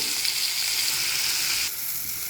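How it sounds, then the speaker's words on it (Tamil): Tomato, small onions, garlic, fennel, dried red chillies and curry leaves frying in a kadai, giving a close, steady hiss of sizzling oil that drops slightly in intensity near the end. "கட் பண்ண தக்காளி சின்ன வெங்காயம் பூண்டு சோம்பு வரமிளகா கருவேப்பிலை எல்லாத்தையும் நம்ம வடச்சட்டியில் இப்போ வந்து வதங்க விடுறோம்"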